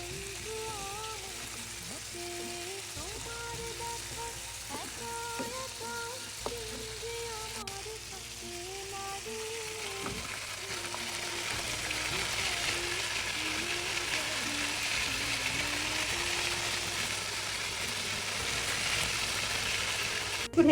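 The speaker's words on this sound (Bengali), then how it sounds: "এই তো খুব সুন্দরভাবে ফ্রাই হচ্ছে" Crab frying in a pan, partly covered so it cooks through, makes a faint continuous sizzle that grows slightly denser over time, with soft background tones.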